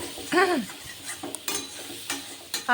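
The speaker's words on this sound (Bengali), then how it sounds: "দুটো সাইড ভাজা হয়ে গেছে এইভাবে উল্টে পাল্টে দেবো উল্টে পাল্টে দিয়ে পটলগুলি ভাজা হয়ে গেছে" Pieces of pointed gourd fry in a little oil while being flipped, giving soft sizzling with brief scraping stirs and light utensil clinks, fairly quiet and without speech.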